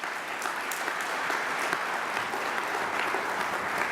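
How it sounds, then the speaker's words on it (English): An audience applauds at an arena groundbreaking ceremony, dense continuous clapping from a sizable crowd, fairly close and even throughout, with no speech over it. "Let's give them a round of applause."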